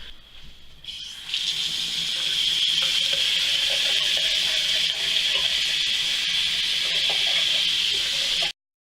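Running water pours from a tap to rinse hair dye out, a steady close hiss and gush that starts a moment in and goes on unbroken until it cuts off abruptly near the end, with no talking.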